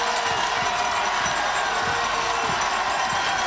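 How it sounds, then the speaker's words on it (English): Loud football crowd of Golden Gaels fans roaring and cheering in the stands during a close fourth quarter of the 2002 Yates Cup, a dense continuous wall of voices. "it's the Golden Gales crowd that is very, very loud"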